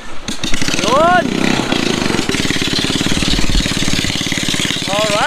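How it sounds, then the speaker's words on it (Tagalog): A motorcycle engine runs close by with a steady, rapid putter that continues throughout, while people talk over it. "Motor ba to pare? Motor? May motor?"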